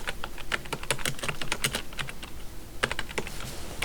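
Quick clattering keystrokes on a computer keyboard, including a Ctrl T shortcut, coming in rapid bursts with a short pause midway, close and clear with no voices.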